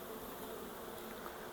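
Honey bees hum continuously at beehive frames, a faint, dense, even drone with no pauses and no voices.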